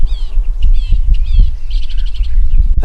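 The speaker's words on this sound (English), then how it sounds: "so you can hear the birds" Birds chirping in the woods, repeated short tweets and trills at moderate distance over a heavy low rumble of wind or background noise.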